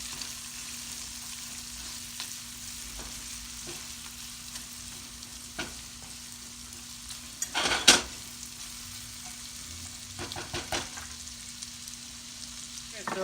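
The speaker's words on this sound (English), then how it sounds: "the first thing that's going in is the shallots. Just gonna let that soften a bit." Shallots frying in a pan, a quiet steady sizzle with occasional clinks and stirring scrapes of a utensil against the pan.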